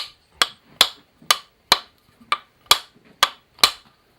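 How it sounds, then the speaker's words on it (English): Hammer blows driving a handle onto an ice cream scoop insert: eight sharp, evenly spaced metallic strikes about half a second apart, close and crisp with short ringing decays. "if you got to hammer it on, that's good"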